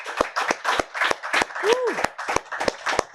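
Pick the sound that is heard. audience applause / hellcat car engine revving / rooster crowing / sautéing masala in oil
audience applause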